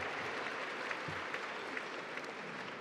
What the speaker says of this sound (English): give yourselves a round of applause for being a part of 40 years of history